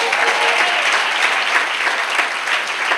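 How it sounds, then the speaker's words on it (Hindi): Strong, steady applause from a church audience at a marriage counseling sermon, many hands clapping continuously at close range with no break. "बजाइए बजाइए ना, ताली बजाइए।"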